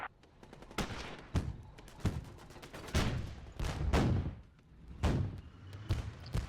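Tank cannon fire and gunfire in the WWII strategy game Theatre of War 2, with British Valentine tanks fighting at the Kasserine Pass in Africa, 1943: loud repeated booming shots and sharp cracks, irregularly spaced, with rumbling battle noise between them.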